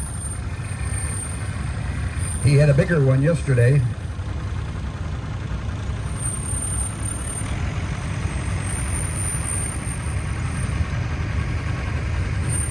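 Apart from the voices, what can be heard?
1972 Allis-Chalmers 175 diesel tractor engine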